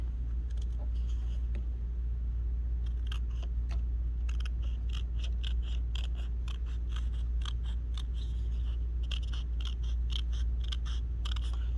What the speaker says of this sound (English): I'm going to need to take scissors and just trim a little bit of that away.